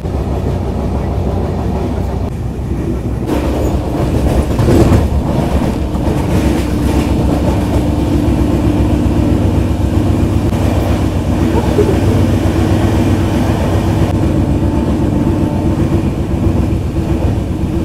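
The 12883 Rupashi Bangla Express rumbles along its run from Kolkata toward Bishnupur, a loud steady roar of wheels with rhythmic clacking over rail joints and brief rattles throughout.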